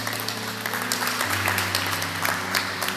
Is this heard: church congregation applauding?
yes